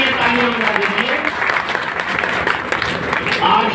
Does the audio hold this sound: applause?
yes